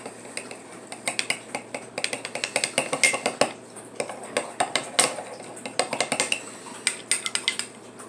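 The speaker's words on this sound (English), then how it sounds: "Now we just mix it." Ketchup and mustard stirred together in a bowl with a utensil, giving a steady run of quick clinks and scrapes against the bowl, close and fairly loud, with no voices.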